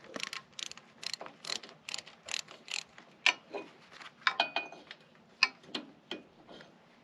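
A ratchet wrench clicks in quick, uneven bursts while loosening bolts on the starter of a Cub Cadet diesel tractor, the sharp metallic ticks close and fairly quiet with short pauses between strokes.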